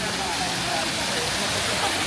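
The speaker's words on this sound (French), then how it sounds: "Regardez au niveau de la cascade" A waterfall at a temple site on a hike in Japan roars with steady broadband rushing noise, loud and continuous throughout.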